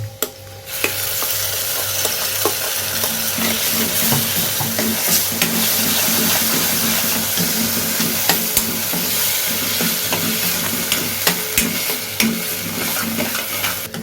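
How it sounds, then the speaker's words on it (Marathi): A ground masala paste with turmeric, red chilli and Malvani masala fries in a pan for a village-style fish curry, a loud steady sizzle with frequent stirring clicks and scrapes throughout, with no voices. "हे वाटण केलेलं आहे त्यामध्ये घालूया"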